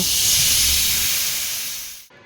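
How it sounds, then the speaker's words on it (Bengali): A pressure cooker boiling jackfruit and potatoes in water lets out a loud, steady whistle of escaping steam that holds for about two seconds and then cuts off sharply. "দিয়ে প্রেসারে আমি 2-3টে সিটি খাইয়ে নেব।"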